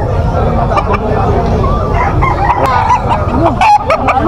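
A rooster crows loudly and nearby, with clucking chickens and people talking over the farmyard noise.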